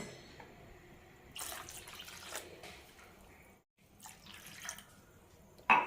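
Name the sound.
water poured into moong dal sambar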